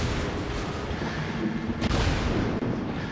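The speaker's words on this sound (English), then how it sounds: "Oh, here come the torpedoes. Let's get out of here. Somebody" Battleship struck by torpedoes in the naval combat game World of Warships, a dense, rumbling barrage of booming blasts with a sharp impact near the middle, loud and continuous with no talk over it.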